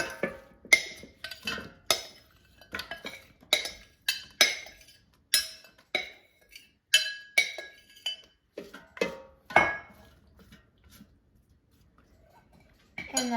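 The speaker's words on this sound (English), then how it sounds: "I'm just going to take out the air fryer bowl and put the potatoes in" Sliced potatoes dropped and placed into an air fryer bowl, a rapid series of close, sharp clinks and taps in an irregular rhythm that thin out toward the end, no talking.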